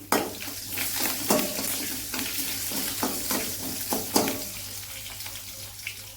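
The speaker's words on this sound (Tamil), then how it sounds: "லைட்டாக வதக்கி விட்டுட்டு அப்புறம் பச்சை மிளகா சேர்த்துக்கிறேன்" Green chillies sauté in a hot pan while making a chutney, a continuous close sizzle with repeated spatula scrapes and knocks against the metal.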